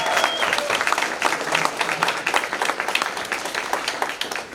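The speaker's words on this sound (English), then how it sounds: "Please give them a round of applause." A room full of people applauding executive fellows at a program showcase, a steady, full round of clapping that holds throughout, with a faint short tone near the start.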